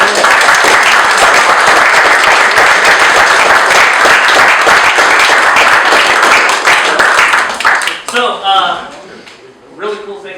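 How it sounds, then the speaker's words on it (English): Loud, dense applause from an audience at a 2016 awards session's closing remarks, a steady roar of clapping for about eight seconds that thins into scattered claps and then fades out. "I was wondering if we could all give him a round of applause"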